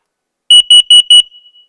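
A kitchen combination smoke and carbon monoxide alarm being tested by holding its button sounds four loud, evenly spaced high-pitched beeps, followed by a faint trailing tone, with no talking over it.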